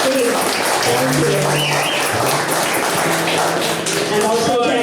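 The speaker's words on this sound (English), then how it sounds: "So big round of applause for Nick." Audience applause at a Bangladesh charity gig at PJ O'Reilly, dense steady clapping under a low sustained keyboard tone and some voices, holding at an even level throughout.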